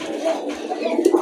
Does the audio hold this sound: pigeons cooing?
yes